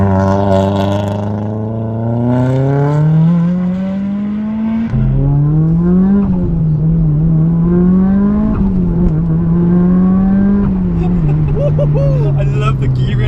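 A Mitsubishi Lancer Evo 5 engine revs up loudly on the road through several gears, its pitch climbing steeply and then dropping at each shift, with a voice talking over it.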